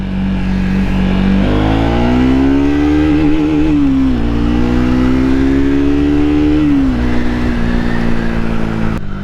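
A small-engine Daytona Tiger motorcycle accelerates hard through the gears, its revving climbing steadily with a brief dip at a shift, loud and close throughout.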